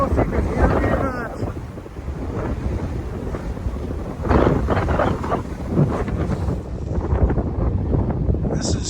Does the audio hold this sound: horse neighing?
no